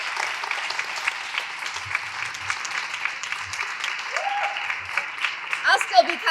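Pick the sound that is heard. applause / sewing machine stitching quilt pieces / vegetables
applause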